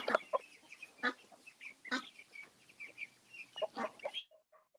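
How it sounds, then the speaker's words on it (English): Ducks in the background around a home, a string of faint quacks and clucky calls in short irregular bursts, fairly distant and quiet. "I hear those ducks back there."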